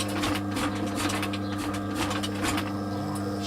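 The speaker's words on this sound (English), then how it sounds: "I'll run this stitch through here." A leather blade cover for a hatchet is being stitched, producing a steady mechanical hum with a fast, regular pulsing beat. It is close, continuous and fairly loud for the few seconds it runs.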